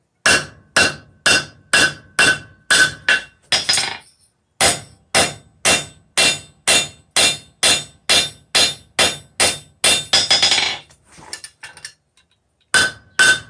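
Hammer forging steel into a church key bottle opener on an anvil: loud, ringing metallic strikes in a steady rhythm, about two per second, close up, broken by short pauses between runs of blows.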